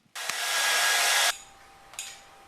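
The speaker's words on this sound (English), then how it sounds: "I'm just going to grab my wife's hairdryer and plug it in." A hair dryer roars loudly for about a second, cuts off abruptly, then a brief second burst follows after a short quiet gap.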